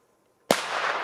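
A Pirate Bomb PS-FB-007 firecracker explodes in one sudden loud bang after a moment of near silence, followed by a sustained hissing, crackling rush of burning debris.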